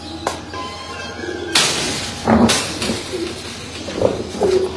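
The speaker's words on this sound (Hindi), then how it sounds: "मैं कबूतर छोड़ लूँ।" Pigeons being released by a breeder, with several soft coos and bursts of wing flapping sounding close and fairly loud, without any talk.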